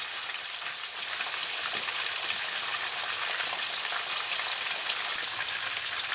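Horse mackerel frying in a pan, a dense steady hiss and crackle of hot oil, close and continuous, with no voices over it.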